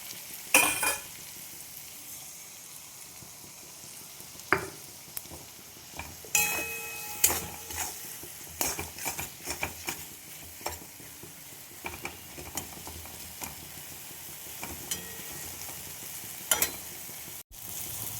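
Egg frying in a pan for chowmein, with steady sizzling and repeated scraping, stirring clicks of a utensil against the pan throughout, close and fairly loud with no talk.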